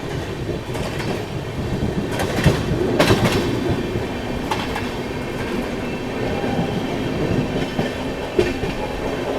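Magadh Express passenger train running on rails, heard from aboard as a steady loud rumble with rhythmic clickety-clack of wheels over rail joints and occasional sharper knocks.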